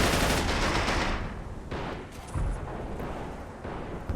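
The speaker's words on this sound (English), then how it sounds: "See if we can fire some AT rounds." A Flak 88 gun fires anti-tank rounds in the Men of War video game, loud heavy reports with rolling echoes in a battlefield setting, followed by a few more scattered blasts.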